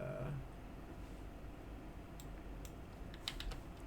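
Typing on a computer keyboard while modelling a Sheikah Slate: soft, fairly close key clicks in scattered bursts, with a few sharper taps near the end, over a low steady background hum.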